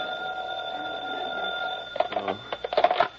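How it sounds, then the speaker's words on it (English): A telephone rings in an old-time radio drama set at three in the morning: a steady background tone, then a loud, rapid, jangling ring in repeated bursts. "3 o'clock in the morning and the phone rings"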